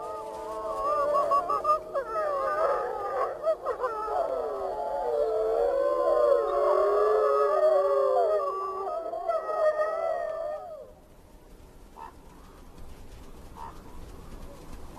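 A wolf pack in Yellowstone howls together in a long, loud chorus of overlapping rising and falling voices, layered and sustained for about ten seconds before fading to quiet outdoor ambience.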